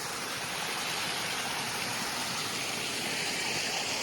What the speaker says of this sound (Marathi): हा आमचा मारणेवाडीचा मिनी धबधबा